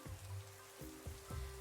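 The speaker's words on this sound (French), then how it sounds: "Maintenant, la pluie est trop forte." Heavy rain falling outside makes a faint, steady hiss, broken by a few soft, dull thumps of drops striking a surface.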